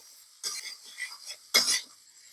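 Spinach and pumpkin being stirred with turmeric, ginger paste and salt in a pan; two brief bursts of scraping and clinking a second apart, close and moderately loud, with quiet between.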